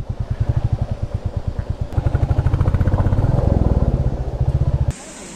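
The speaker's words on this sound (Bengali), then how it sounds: "একটা জায়গায় বাইকটা দাঁড় করাই" A motorcycle chugs at idle with a steady pulsing beat, rises slightly as it is brought to a stop and parked on a roadside in West Sikkim near a waterfall, then its engine cuts off.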